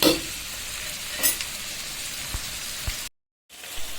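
Bitter gourd slices fry in a pan with a steady bright sizzle and a few stirring scrapes, then the sizzle drops out briefly before returning.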